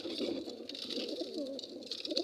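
Pigeons cooing on a house roof, a soft continuous coo with overlapping calls, fairly close and steady, with no talking.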